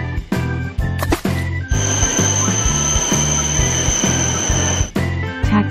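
A train rumbles continuously with a high sustained squeal like wheels on rails, heard for several seconds over a rhythmic, music-like low pattern, loud and near.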